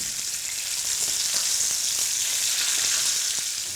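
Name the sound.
tuna fillet frying in hot olive oil, basted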